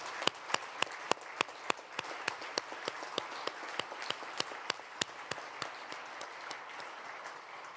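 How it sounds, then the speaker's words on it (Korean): Applause from the audience at the 53rd National Prayer Breakfast in Korea, a steady, fairly loud wash of many hands with a few sharper individual claps standing out regularly, continuing evenly without speech. "감사와 영광의 박수를 다시 한번 돌리겠습니다"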